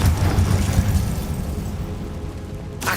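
A loud, sustained fiery explosion from the Confringo spell in Hogwarts Legacy, a deep rumbling blast that fills the clip and slowly tapers off, with a short burst near the end.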